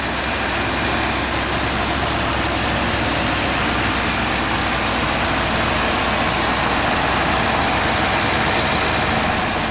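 A 2024 Ford Super Duty's 7.3L gasoline engine idles steadily and smoothly up close, a constant low rumble with broad hiss and no voices.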